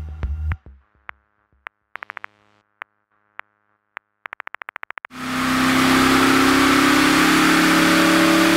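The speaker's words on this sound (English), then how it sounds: "Every car is taken into the dyno booth for a high-speed run-up and systems check." An Audi R8 V10 Plus engine roars loud and steady during a high-speed run-up in a dyno booth, coming in abruptly after a string of sharp clicks and short beeps.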